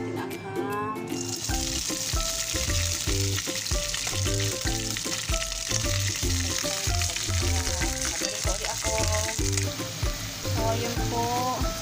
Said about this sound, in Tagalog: Bago ko po siya igisa kasama ng ham.